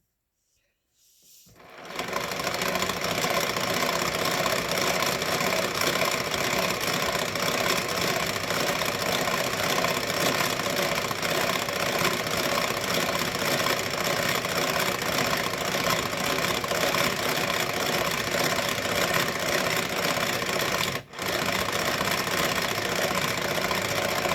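Tupperware DuoChef whisk whipping homemade mayonnaise: after a brief silence, a loud, steady mechanical whirring starts and runs without a break, close up, with a short dip near the end.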